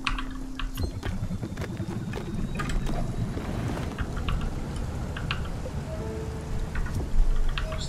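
Rain and stormy weather in the video game Spiritfarer, a steady hiss of rainfall with creaking boat and wind sounds, scattered clicks and low rumbling throughout, with no voices.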